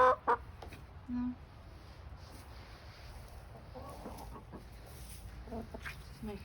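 A backyard flock of year-old chickens out in snow gives a few soft, scattered clucks and brief calls, faint and intermittent against quiet outdoor background.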